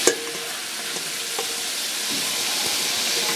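Beef browns in a pan for braised beef and noodles, a steady hissing sizzle with a few light spatula taps, close and without speech.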